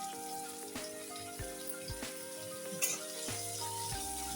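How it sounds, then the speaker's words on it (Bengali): Onion, garlic and soaked dried fish sizzle steadily in a hot pan, a continuous close crackle broken by a few soft clinks of a spatula stirring. "পেঁয়াজটা দিয়ে দিব, আর দিয়ে দিব তাতে রসুন, আর তাতে দিয়ে দিব যে শুটকি মাছগুলি যে গরম জলে ভিজিয়ে রেখেছিলাম ওটাও দিয়ে দিলাম"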